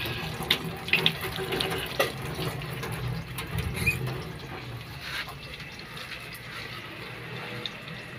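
Vegetables are rinsed under a running kitchen tap, with a continuous splashing water stream and a few clattering knocks near the start, heard up close with no talking.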